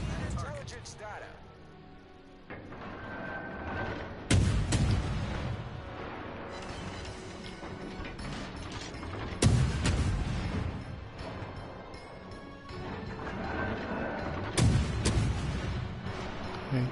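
Naval shells fire and explode in World of Warships as three heavy booming salvos, spaced about five seconds apart, each followed by rumbling decay, beneath steady game voice callouts and a person talking.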